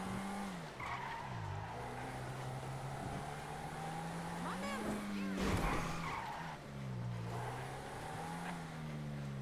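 A car in GTA Online drifts at an auto show, its engine revving up and down in wavering sweeps while the tires skid and squeal almost continuously, loud and close, with one sharper burst partway through.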